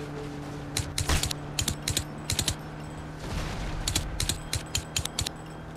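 Bursts of gunfire in the video game Crysis on PS3, short clusters of sharp cracks repeating every half second or so over a constant low game hum, fairly close and no voices.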